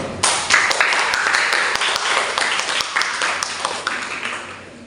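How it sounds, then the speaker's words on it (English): Dense applause from the audience at the opening of an English debating competition, a loud wash of many hands clapping with sharp individual claps standing out, slowly fading over several seconds. "let's give a big and rousing applause for all adjudicators and debaters in here"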